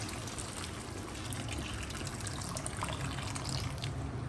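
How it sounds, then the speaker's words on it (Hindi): Water poured into cooking masala for a fish curry in a home kitchen, a steady, even trickle running throughout with no one talking. "इसमें मैं पानी ऐड करने लगी हूँ इससे"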